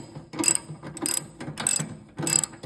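A hand ratchet tightens the serpentine belt tensioner on a Ventrac HM560, clicking in four distinct bursts of rapid pawl clicks spaced about half a second apart, close and crisp with no talking.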